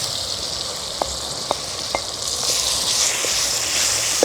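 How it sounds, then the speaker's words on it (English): Meat dropped into a hot pan of onions for village-style matoke gives a steady bright sizzle with a few sharp pops and spits, swelling slightly louder toward the end, with no voices. "Let me add the meat now."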